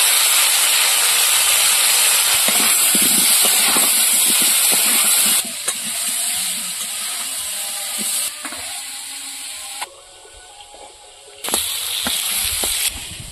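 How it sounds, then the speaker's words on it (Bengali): Potatoes frying in hot oil with salt and turmeric on a clay stove, a loud, continuous close sizzle and hiss that drops and swells in sections, with scattered crackles. "লবণ হলুদ দিয়ে আলুটা ভাজা করব।"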